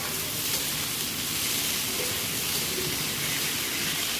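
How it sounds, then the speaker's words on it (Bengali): Green chili and potato pieces frying in hot oil in a wok, a steady bright hiss of sizzling that holds at an even level throughout with no voices. "এরপরে লঙ্কা আর আলুটাকে ভালো করে ভেজে নেব আর এর মধ্যে নুন হলুদ দিয়ে নেব"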